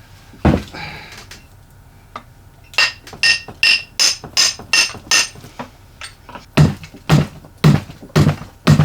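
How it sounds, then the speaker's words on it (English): A metal hammer whacks repeatedly at an old axe near insulation, sharp close thuds and clanks landing in an uneven rhythm, sometimes in quick pairs, with a few pauses between strikes. "Got the actual metal hammer."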